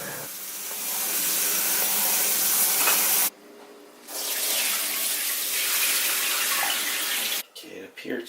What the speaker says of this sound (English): gave it a good wash. Rinsed it a couple times in cold water.